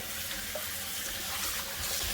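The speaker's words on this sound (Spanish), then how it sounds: "ahora le voy a echar agua caliente, pero no hirviendo" Hot but not boiling water being poured over beef tripe, a steady close hiss and splash of running water that goes on evenly without talk.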